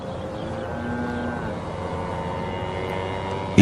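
Cows lowing at a distance, a faint drawn-out moo over a steady low hum, with no talk.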